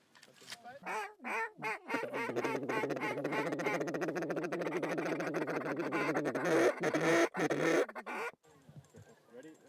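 Mallard ducks quack repeatedly over decoys in an open oat field, a dense, steady chorus of calls close by, with voices mixed in among them.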